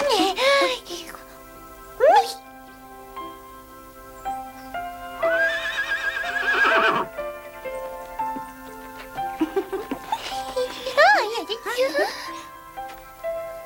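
A horse neighs several times in a cartoon farm scene, shrill whinnies rising and falling in separate bursts, mixed with faint hoof clatter, quiet background music and a speaking voice.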